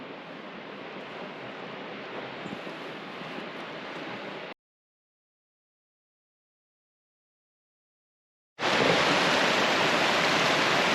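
Steady rushing roar of Spray Falls at Pictured Rocks National Lakeshore, cut by several seconds of total silence before the roar returns at full strength.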